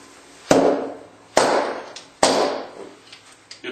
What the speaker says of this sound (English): you have to bang them onto the cement to get them to retract